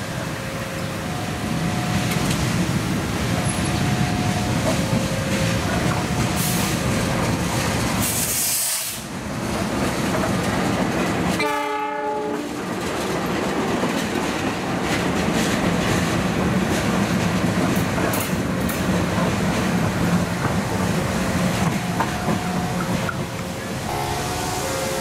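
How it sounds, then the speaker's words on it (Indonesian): A CC206 diesel locomotive runs near Yogyakarta, its engine and rolling wagons rumbling steadily for a long stretch, with a few short horn tones and a brief pause in the middle. "Setelah KRL, kali ini giliran Loko CC206 alias Wongs yang beraksi."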